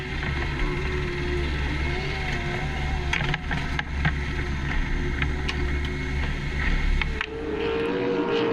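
Offshore powerboat engines idle low and steady, a loud continuous rumble with a fairly even tone and a slight shift near the end, with no talking over it.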